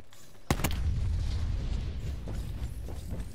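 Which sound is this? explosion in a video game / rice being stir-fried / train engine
explosion in a video game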